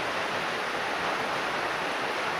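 Steady, even hiss of early-morning rainfall at a rural garden home, constant and unbroken throughout, moderately quiet with no other sounds.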